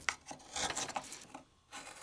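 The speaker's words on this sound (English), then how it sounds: "kept it out of the clamps and carved freehand, holding the gouge up by the tip for more control" A gouge carves a wooden cooking spoon freehand, producing short, close, irregular scraping and rasping strokes with brief pauses between cuts.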